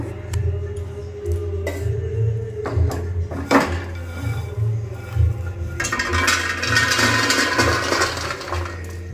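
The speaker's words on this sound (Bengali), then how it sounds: "তো এটাকে আমি থালায় ঢেলে নেব" Food poured out of a pan onto a metal plate, with scattered clinks and taps up close over a low hum, then a denser rattling spill of pieces toward the end.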